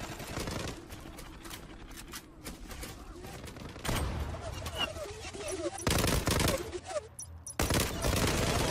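Rapid bursts of automatic gunfire crackle through a Zula shooter match on a construction map, dense volleys broken by short gaps, with players talking over the shooting.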